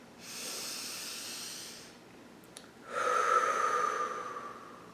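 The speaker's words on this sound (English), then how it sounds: "So, can you take a deep breath right now?" A single deep breath taken close by, a long airy inhale and then a fuller, louder exhale after a short pause, with no talking.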